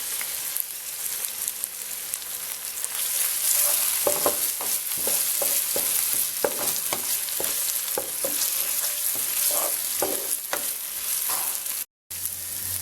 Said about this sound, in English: Now I'm adding ginger garlic paste.